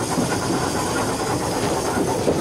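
A steam locomotive runs on rails, its engine beat sounding as a dense, steady hiss and rumble with faint rhythmic clatter throughout, close and continuous.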